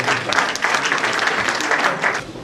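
Audience applause at an international seminar marking the Faiz Ahmad Faiz centenary, a dense, steady wash of many hands clapping that fills the whole stretch at close range with no pause.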